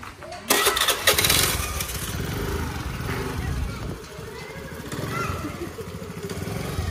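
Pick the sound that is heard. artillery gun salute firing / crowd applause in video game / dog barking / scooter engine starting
scooter engine starting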